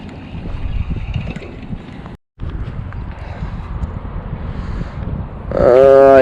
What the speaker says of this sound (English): Oh, that's an icy wind chill.